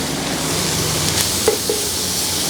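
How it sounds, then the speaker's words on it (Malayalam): Cooked clam meat being stirred with spices in a pan for a Kerala clam thoran, a steady faint sizzle with a few soft scrapes of the spoon near the middle. "നല്ലോണം നമുക്ക് മിക്സ് ചെയ്തൊന്ന് യോജിപ്പിക്കാം."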